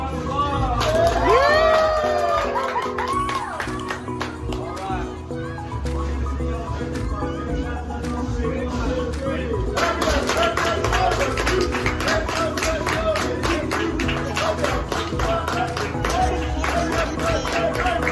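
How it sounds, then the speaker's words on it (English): Diners at the Rainforest Cafe in Grapevine Mills, Texas, clap and cheer for a birthday in a busy restaurant. A horse-like whinny sounds early, and a burst of scattered applause builds in the second half under talking. "Let's give them a round of applause."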